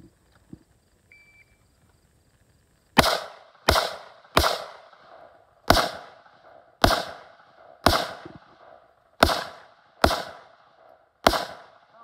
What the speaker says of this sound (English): Shots to the head of each target, starting in the middle.